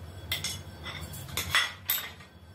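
A metal utensil clinks and scrapes against a pot while mixing tomato, chilli powder, turmeric and salt, with a few sharp taps and irregular stirring scrapes close up, no talking.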